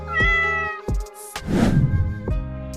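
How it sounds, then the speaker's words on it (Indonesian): A small cat meows several times, high and plaintive, with brief pauses between cries and a breathy rustle in the middle. "mereka mendengar suara miau lembut"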